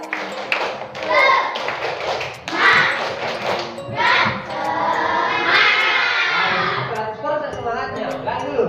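A classroom group clapping a rhythmic spirit clap chant together, bursts of claps mixed with children's voices chanting along, fairly close and lively.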